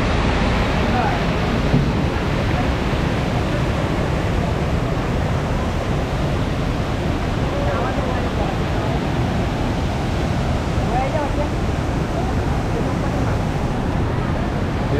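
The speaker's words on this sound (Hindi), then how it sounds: "ये अपना कैंपटी वाटरफॉल," Rushing water roars steadily at Kempty waterfall in Mussoorie, a constant loud broadband wash with some wind buffeting, heard close with no clear speech over it.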